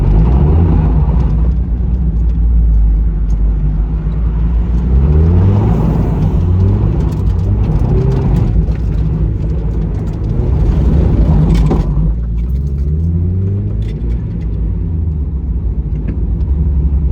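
A 1990s Mazda Miata drives on a windy highway, a steady close engine drone with rolling road and wind rumble, the pitch rising and falling through several gear changes.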